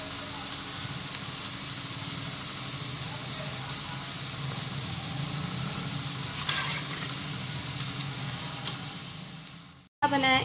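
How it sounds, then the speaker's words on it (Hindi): Onions sizzle and fry in a pan, browning over the heat, with a steady, loud hiss that continues throughout and a brief drop near the end. "प्याज लाइट ब्राउन हो रहा है, हम इसे थोड़ा और ज़्यादा ब्राउन करेंगे।"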